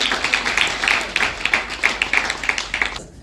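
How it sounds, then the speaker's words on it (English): Audience at a Women's Day achievers award celebration claps and applauds steadily for a few seconds, a dense patter of many hands that stops abruptly at the end. "Big round of applause everyone for Sona ma'am."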